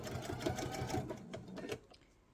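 A sewing machine stitches a fabric oval placemat around its curve, running in a close, steady whirring rhythm that slows and stops in short bursts as the work is turned.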